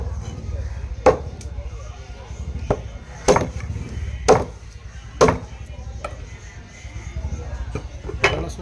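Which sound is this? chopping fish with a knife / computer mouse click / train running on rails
chopping fish with a knife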